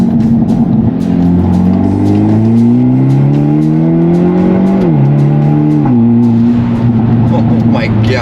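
Hyundai Elantra N engine revving hard and accelerating, its loud rising drone climbing steadily through the gears, dipping briefly and then holding a strong, steady note, close and dominant throughout.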